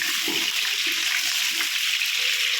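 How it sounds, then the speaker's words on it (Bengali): Potatoes frying in hot oil, a steady bright hiss and sizzle filling the whole stretch without pause, close and fairly loud. "দেখুন আলুটা লাল লাল করে ভেজে নিচ্ছি"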